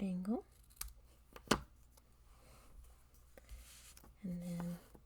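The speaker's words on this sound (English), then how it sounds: "Take my scissors, and I'm going to just cut this edge at an angle," Scissors cut the edge of paper at an angle while making a gift card holder, giving a few short, crisp snips and rustles, close but quiet, between stretches of speech.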